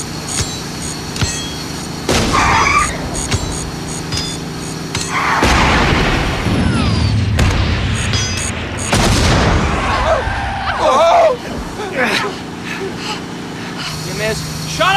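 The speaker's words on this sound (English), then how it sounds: "Grenades!" Grenade explosions going off during a film car chase from the 1997 Love Bug, several sharp bangs and booms scattered among engine noise and shouting voices, loud and close.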